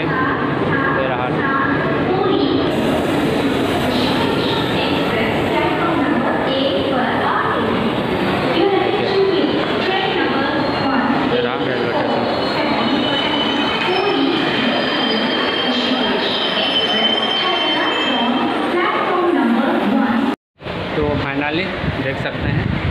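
A train passes through Jharsuguda railway station, its wheels rumbling and squealing loudly and continuously for over twenty seconds, with a brief dropout near the end, while a person talks over the noise.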